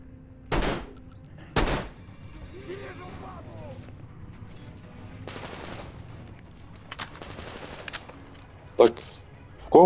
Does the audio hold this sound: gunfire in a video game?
yes